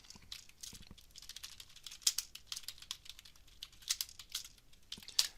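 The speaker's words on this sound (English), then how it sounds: "so I'm going to type it in." Someone types on a computer keyboard, entering text by hand into a spreadsheet entry, with close, irregular clicks in quick bursts and a few sharper keystrokes over a quiet background.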